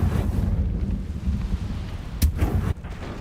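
Incendio fire spell cast in the video game Hogwarts Legacy, a deep rumbling whoosh of flame with a sharp crackling burst near the end, loud and without talk.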